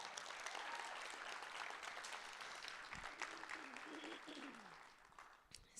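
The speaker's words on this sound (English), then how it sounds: "let's just give him another round of applause" A conference audience applauds a speaker at a university TEDx event, a dense, steady wash of many hands clapping throughout, with some voices mixed in and the clapping thinning slightly toward the end.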